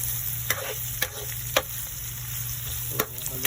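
Escabeche stirred in a pan: a low sizzle runs underneath while a few sharp spoon-against-pan clinks land at irregular intervals, close and distinct.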